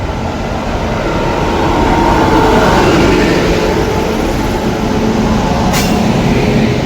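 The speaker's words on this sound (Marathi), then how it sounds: "फायनली आली आपली मांडवी एक्सप्रेस चला गाडी आपली प्लॅटफॉर्मला आलेली आहे" The Mandovi Express pulls into a crowded platform at Rajapur Road station, a loud, continuous rumbling roar of the train close by that swells slightly and holds steady, with a brief high squeal near the end.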